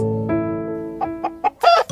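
A chicken clucks in a few short, close bursts, ending in a louder squawk, over a faint held musical tone.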